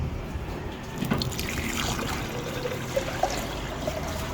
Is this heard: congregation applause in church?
no